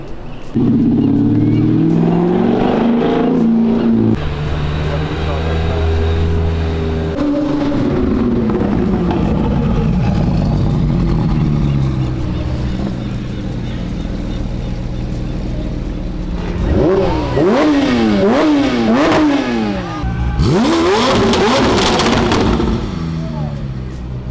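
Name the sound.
Subaru car engine revving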